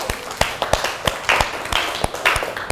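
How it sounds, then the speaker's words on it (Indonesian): Scattered hand claps from a small classroom group of students after a group presentation on accounting methods, irregular and fairly close, with a few sharper taps standing out. "beri tepuk tangan."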